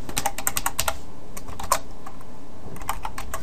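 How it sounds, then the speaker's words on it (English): Rapid, uneven keystrokes clatter on a computer keyboard, close and clear, with short pauses between bursts of typing. "I don't know why I'm typing."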